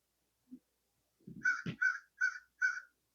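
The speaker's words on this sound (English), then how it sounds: "That crow cawed right outside the window." A crow caws outside a window: a faint knock or two, then four or five loud, harsh caws in a fairly even rhythm against an otherwise quiet background.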